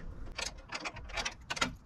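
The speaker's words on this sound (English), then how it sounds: "we can go ahead and tighten these side bolts" A ratchet with a 13 socket tightens side bolts on a Ford Super Duty truck light bar mount, giving quick rapid clicking bursts close by, with no speech.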